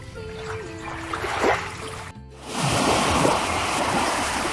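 Ocean waves wash onto a beach in a steady, rushing surf, loudening midway as a bigger wave breaks close by, with no talking over the water.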